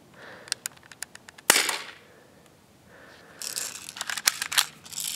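Smith & Wesson M&P 40 airsoft pistol fired outdoors toward a fence 40 to 50 feet away: a string of sharp, snappy shots close by, a louder crack partway through, then rustling noise and further shots, with no talking.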